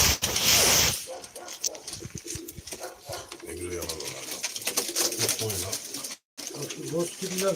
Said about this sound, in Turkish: Burada çok, çok efsane kuşlar var.